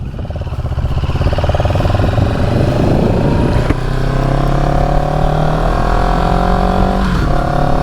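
A CFMoto CL-X 700 motorcycle engine drones loudly while riding in third gear near the speed limit. The pitch climbs steadily and then holds a throaty, rising hum, with wind rush heard from inside the helmet.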